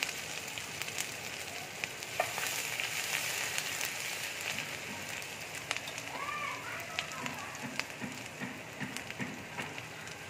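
Grated ginger, bay leaves and whole garam masala spices frying in hot oil, giving a steady crackling sizzle throughout with faint clinks of a utensil.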